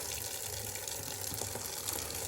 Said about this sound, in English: A little bit of warm water.